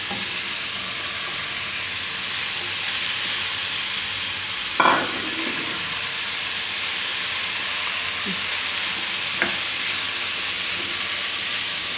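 Onion and capsicum stir-fry in a pan on low gas for mint pasta, giving a steady close sizzle and hiss with a couple of brief scraping stirs.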